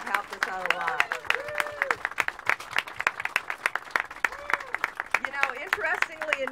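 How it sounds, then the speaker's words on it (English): Sustained audience clapping at a ceremony marking the 40th anniversary of the fire on the Poughkeepsie railroad bridge, with dense, rapid claps from a crowd and voices and cheers mixed in throughout. "Let's really clap loud for all these brave people that have helped us out a lot."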